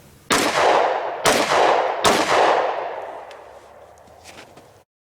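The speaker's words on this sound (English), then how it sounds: "Next up, the 10mm, also known as the centimeter. Let's shoot a group just a little lower than that one." Three loud, sharp 10mm pistol shots fired outdoors in winter into a car door, about a second apart, each cracking hard and ringing out in a long fading tail.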